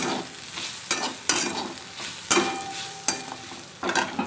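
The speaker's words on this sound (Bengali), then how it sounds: "ভাজাটা ভাজাটা হয়ে গেছে নামিয়ে দেবো এবার" Food fries and sizzles in a pan, a steady close hiss broken by several sharp scraping stirs of a spatula.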